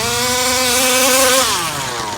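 A Rovan 34cc gas engine on its first start screams at high RPM, its pitch climbing and then falling off in one loud, close rev.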